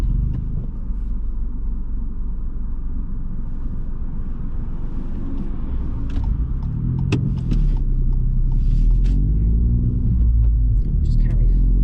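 Car pulling away during a mock driving test, a low engine rumble building inside the cabin with small interior clicks and rattles, and a voice speaking over it.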